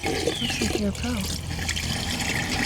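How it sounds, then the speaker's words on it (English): A sprayer tank filling with water for a lawn fungicide treatment, a steady rushing pour that runs throughout with a person talking over it. "we just got to wait for our tank to fill"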